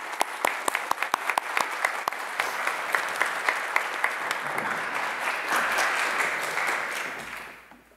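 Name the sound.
audience round of applause for award recipient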